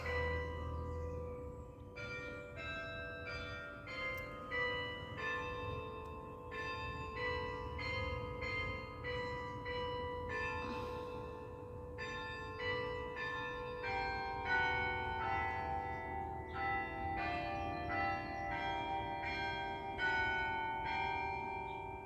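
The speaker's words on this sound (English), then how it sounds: "You get to hear the beautiful sounds of the church bells here." Church bells ring at midday in a sustained, overlapping peal, several tones striking in an irregular cascade that continues without pause, moderately distant and clear.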